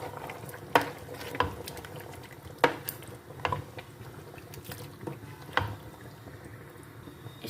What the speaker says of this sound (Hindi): इसको हम अच्छे से मिक्स कर लेते हैं।